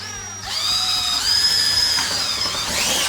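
A power drill whines steadily at high pitch as it bores a hole through a workbench, loud and close, with the tone shifting slightly as the bit cuts through.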